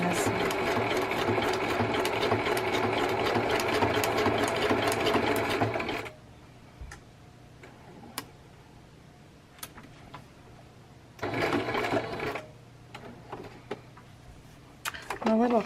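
Sewing machine stitching a vellum scrapbook page, a fast rattling whir for about six seconds, then quiet handling noises and a shorter second burst of stitching, with a voice speaking briefly near the end.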